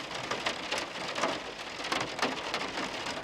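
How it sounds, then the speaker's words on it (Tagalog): Rain falls on a mini camper van, a steady close patter of drops drumming on the roof and body with small irregular surges in intensity. "Kasi umuulan."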